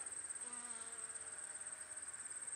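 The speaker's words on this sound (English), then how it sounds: "All the bee activity." Honeybees and bumblebees hum softly beside a Minnesota corn field in late summer, a faint, continuous insect drone with a thin high whine over it.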